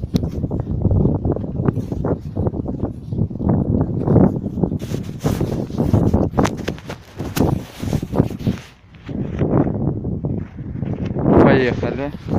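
Strong, cold wind gusts at the Dragobrat ski resort in December, a loud blustery roar buffeting the microphone in waves, with someone talking over it.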